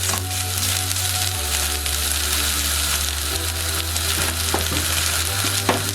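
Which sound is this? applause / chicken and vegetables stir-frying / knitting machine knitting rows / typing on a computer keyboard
chicken and vegetables stir-frying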